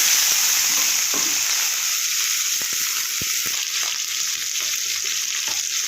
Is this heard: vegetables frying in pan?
yes